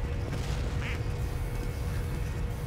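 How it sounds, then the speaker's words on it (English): A short duck quack sounds in Team Fortress 2 on the 2Fort map, a faint single call over a constant dense game ambience with no talking. "lure him over here with quacks"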